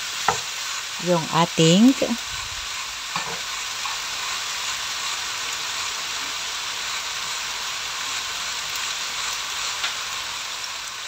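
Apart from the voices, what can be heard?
onion being stirred and sautéed in a pan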